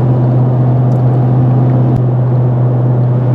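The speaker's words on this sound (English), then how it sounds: "the only thing I'm really hearing is the rumbling of the exhaust" A 2021 RAM 1500 TRX Hellcat performance truck gives off a constant deep exhaust rumble while driving, a loud, even low drone with no talk over it.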